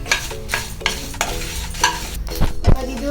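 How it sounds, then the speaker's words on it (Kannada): Spice masala and rice roast in a pan for village-style sambar, loud and close, with dry rustling scrapes and stirring strokes in an uneven rhythm and a brief clank near the end. "ಇವಾಗ ಈ ಮಸಾಲೆಯನ್ನು ಸ್ವಲ್ಪ ಹುರಿದಿಟ್ಕೊಳ್ಳಬೇಕು"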